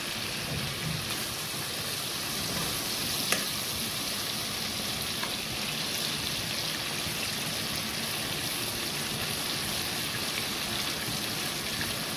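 Prawns sizzle steadily in hot oil, a continuous bright crackling hiss with occasional small pops, close and even throughout with no talk.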